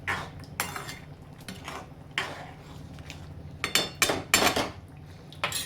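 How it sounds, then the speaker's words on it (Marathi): A metal spoon scrapes and clanks in a pan as capsicum sabzi is stirred with peanut powder, making irregular bursts of close scraping and clinking with short pauses between strokes. "त्याच्यामध्ये आता मी टाकते दाण्याचं कूट 1 चमचा आणि त्याच्यावर थोडं, आणि ते हलवून घ्यायचं"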